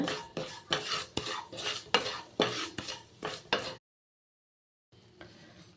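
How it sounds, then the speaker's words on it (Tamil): Semolina (rava) is lightly roasted in a pan for a carrot sweet, with brisk, rhythmic dry scraping and stirring strokes against the pan, close and distinct, then a brief silence and a faint low hum. "லைட்டாக வறுத்தாலே போதுங்க"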